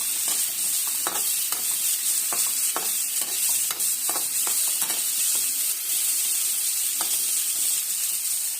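Potatoes frying in hot oil with turmeric, a continuous sizzle broken by frequent clicking stirs and scrapes of a spoon against the pan, with no talking.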